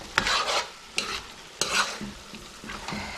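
Eggplant frying in a pan as salt is stirred in, with several distinct scraping stirs of a utensil over a soft continuous sizzle, close and clear, no talking.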